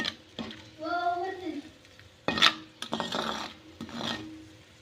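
A spoon works pickle masala powder through a pan of salted raw mango pieces with the heat off, giving a few distinct rasping scrapes close by and a brief faint voice-like tone early on.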